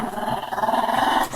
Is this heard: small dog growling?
yes